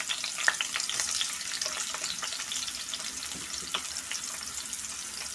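Chopped onions hit hot oil in a pan while cooking spicy gongura chicken, giving a steady, close crackling sizzle with bursts of spitting and occasional stirring scrapes, no voices over it.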